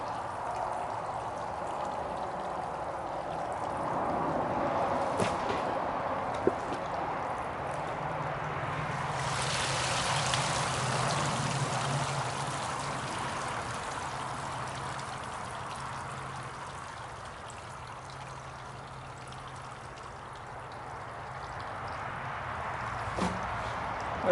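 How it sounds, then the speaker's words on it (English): A garden hose runs into a water tray beside a Johnson-Su bioreactor on a calm spring day outdoors, giving a steady, soft rushing trickle that holds evenly throughout with no talking. "This is the hose going into the water tray."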